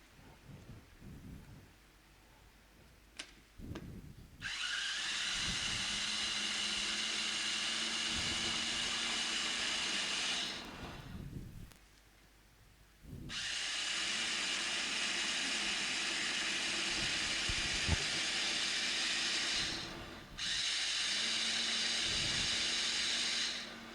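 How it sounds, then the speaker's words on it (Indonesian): An electric blender grinds a fish mixture with milk, white pepper and salt for fish nuggets, whirring loudly in three long runs separated by brief pauses. "Kita blender lebih dulu."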